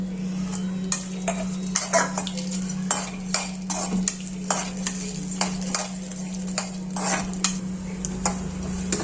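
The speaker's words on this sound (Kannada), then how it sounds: "ಈಗ ನಾನು ಇದಕ್ಕೆ ಪಿಸ್ತಾ ಹಾಕ್ತಾ ಇದ್ದೀನಿ. ಪಿಸ್ತಾ ಹಾಕಿ ಹುರ್ಕೋತೀನಿ" Pistachios are roasted and stirred in a pan, with a spoon scraping and knocking against the metal in repeated sharp clicks over a steady low hum, close and fairly loud.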